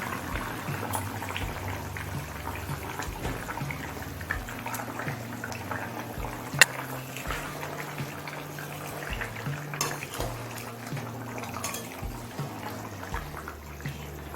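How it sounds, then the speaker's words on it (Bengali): Taro (gatikochu) and fish curry boiling on high flame in a pan, a soft steady bubbling and simmering hiss with a few faint clinks, heard alone at low level. "এবার হাই ফ্লেমে কিছুক্ষণ ফুটতে দেবো"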